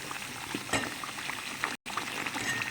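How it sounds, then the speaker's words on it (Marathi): Masala fries hard in oil with mushrooms, giving a loud, continuous bubbling sizzle with small pops and stirring, cut by a brief dropout near the end. "हा मसाला आहे ना तेलामध्ये खूप फ्राय करावा लागतो"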